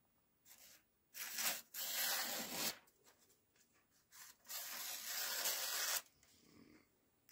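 A Shieldon knife slices through thin phone book paper in a series of crisp, close tearing and rasping strokes, several short bursts followed by a longer sustained cut, with quiet pauses between.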